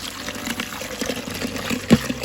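Water poured into a bucket with antibacterial Dawn dish soap for washing before milking a cow: a soft, steady trickle and splash close by, with a brief louder gush near the end.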